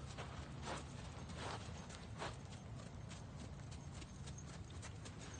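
A horse loping in a riding arena, its hoofbeats a soft, steady rhythmic thudding at moderate distance against a constant background hum, with no voices.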